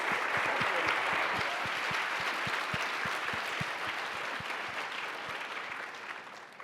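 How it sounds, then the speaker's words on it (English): Audience at a university diversity forum applauds after a keynote, a broad steady roar of many hands clapping, with some individual claps standing out and the sound easing slightly toward the end. "Should we give another round of applause for that?"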